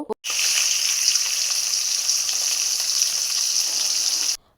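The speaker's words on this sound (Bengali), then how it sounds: "এখন আমি এই যে মাছ ভাজছি" Fish fries in hot oil in a home kitchen with a loud, steady, close sizzle that holds unbroken for about four seconds and then cuts off.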